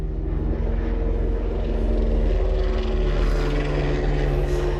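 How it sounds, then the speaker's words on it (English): A propeller airplane drones overhead, a loud, steady engine hum with a rough low throb that stays constant throughout, with no talk. "Just taking a pause because of the plane."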